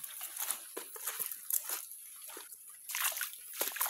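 Water in a countryside creek sloshes and splashes in irregular bursts, quiet and nearby, with light trickling in between.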